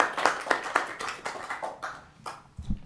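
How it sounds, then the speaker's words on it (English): Audience applause at a redevelopment commission meeting, a short burst of rhythmic clapping from a small group that fades toward the end, moderately close. "Can we give them a round of applause?"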